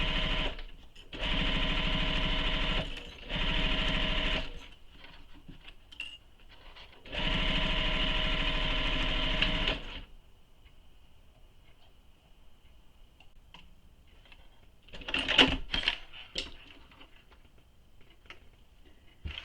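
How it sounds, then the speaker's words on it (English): A sewing machine bastes the top edge of a tote bag at a long stitch length, running in three quick, rapid-stitching bursts separated by pauses, followed by a few light clicks and handling sounds. "baste that top edge"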